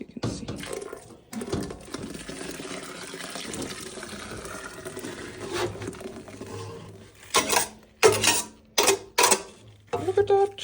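A condensed green natural dye extract is poured into water in a steady, splashy stream, followed by a few separate sloshes and drips near the end.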